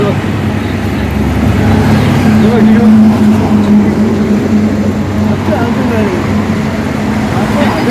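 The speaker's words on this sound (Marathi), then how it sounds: "आता मोठी गाडी आली आहे" A large vehicle crosses a road bridge, giving a steady, loud low rumble with a droning engine tone that swells midway, while people talk over the roadway noise.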